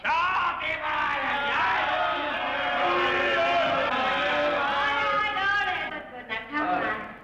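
Someone yells long and loud at a festive gathering, a sustained strained shout with other voices joining in, ending in a few shorter bursts as it tapers off.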